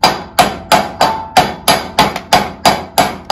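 A hammer strikes a bolt through the shaft of a Haban sickle bar mower in ten evenly spaced, loud metallic blows, each ringing briefly before the next, close up and without talk.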